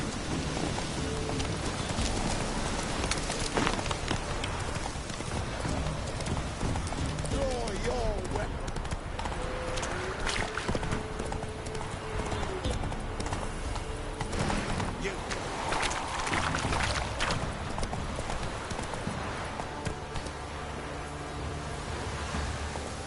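Roach the horse's hooves clip-clop on the ground in The Witcher 3 on PS4, a steady rhythmic stepping under rain and distant thunder, with a voice speaking over it.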